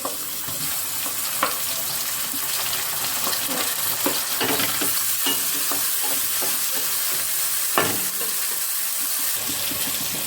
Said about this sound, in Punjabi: ਭੁੰਨ ਚੁੱਕੇ ਨੇ ਪਿਆਜ਼ ਤੇ ਲਸਣ ਆਪਾਂ ਇਹਦੇ ਵਿੱਚ ਪਾ ਦਿੰਦੇ ਟਮਾਟਰ